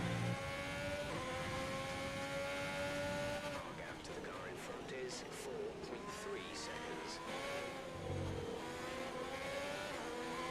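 Formula 1 race car engine in the F1 2020 racing game, on the China circuit, droning at high revs with gear-shift steps and falling pitch, then climbing again, with brief tire squeals, all under a faint background.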